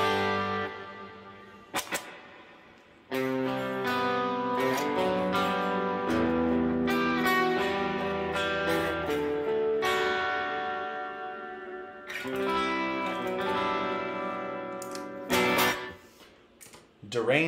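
Electric guitar played through a Helix Dynamic Hall reverb, sustained chords and notes blooming into a long, washy hall tail, with pauses between phrases; someone speaks briefly in places.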